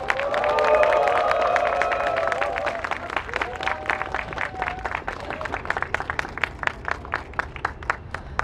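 Crowd at a street rally calling for President Park Geun-hye's resignation cheers and applauds as Justice Party leader Sim Sang-jung is welcomed. Loud whistling and cheering come first, then give way to sharp, dense clapping that continues to the end.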